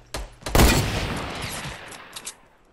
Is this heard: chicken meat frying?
no